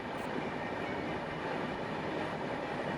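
A steady train rumble fills the clip as the train slows to stop at Brahmapur station past Chilika Lake, a constant rolling roar with no distinct clacks or voices.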